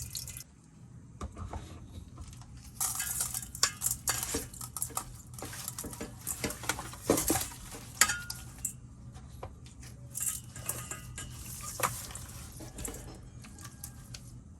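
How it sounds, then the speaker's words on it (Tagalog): Clinks and wet clatter as a pork leg (pata) is washed in a metal basin or pot, irregular knocks and splashes of water at close range, no speech. "Hugasan ko muna bago timpla ng asin."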